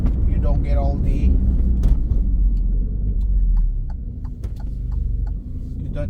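Alfa Romeo Stelvio Quadrifoglio engine in race mode, a steady close low rumble and throb from inside the cabin with a dip and rise in revs, voices talking over it.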